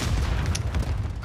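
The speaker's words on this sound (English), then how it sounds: "Throwing grenade!" A grenade explosion in Modern Warfare 3 gives a deep, rolling boom and rumble that fills the whole short moment, with faint crackling debris on top.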